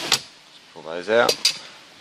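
Silver side trim panels prised out of a Toyota Corolla dashboard: a few sharp plastic clicks and snaps, close up, with a brief muffled voice between them.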